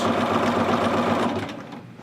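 A sewing machine runs steadily while stitching a stretched elastic waistband onto pants, its close, continuous whirring motor humming and then slowing toward the end.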